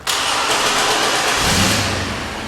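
A 1999 GMC Jimmy with a cold-start problem cranks briefly and catches, its engine flaring loudly then settling into a steady, rough-edged idle, close by and unaccompanied by talk.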